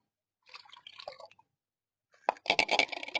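Water from oil-cake soaked about a week is poured and mixed, a short wet splash followed after a pause by a louder burst of sloshing and dripping, close and alone.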